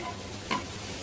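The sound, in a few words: stirring chicken biryani masala in a pot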